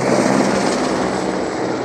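Helicopter flying along the Kedarnath pilgrimage route in the Himalayas, a continuous loud rotor and engine roar with steady thrumming, heard alone without talk.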